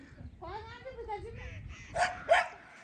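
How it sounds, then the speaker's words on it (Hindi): A chained dog barks twice in quick succession, sharp and fairly close, right after a stretch of someone talking, at a rural plot where langurs are raiding a garden bed. "और ऐसे में कुत्ता भौंकने लगा।"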